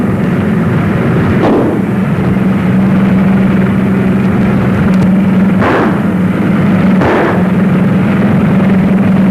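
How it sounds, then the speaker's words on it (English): Gunshots fired at a car in a 1940 film scene: three or four sharp reports spaced a few seconds apart over a steady, loud engine drone. "They're shooting."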